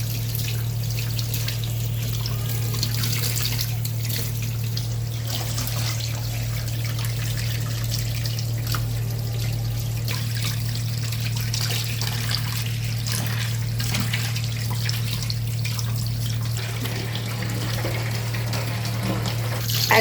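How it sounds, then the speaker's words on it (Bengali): Bottle gourd leaves washed under a running kitchen tap, a continuous steady trickle and splash of water over a low constant hum, no voices. "এবার পাতাগুলো ধুয়ে নিলাম।"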